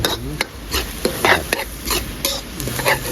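Spicy frog curry being dry stir-fried in a pan, with repeated scraping stirs of a spatula over a steady sizzle, close and fairly loud, no talk.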